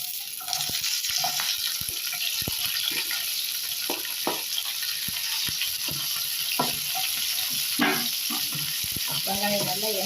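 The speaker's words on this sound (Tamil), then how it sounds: "வெங்காயம் நல்லா எண்ணெயிலே வதங்குங்க." Onions sizzle steadily in hot oil with spices, a continuous close frying hiss with scattered pops and stirring clatter throughout, no talking over it.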